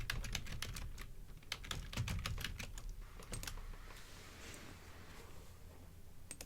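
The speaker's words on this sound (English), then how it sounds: "Just type in Dune collector bucket." Fingers tap out a search on a computer keyboard in bursts of quick clicks, dense at first and then sparser, close and moderately loud with no speech over them.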